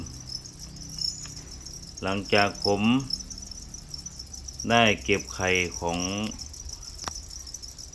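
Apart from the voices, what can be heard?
breeding crickets chirping in a plastic bucket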